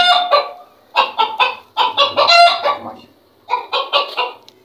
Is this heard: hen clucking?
yes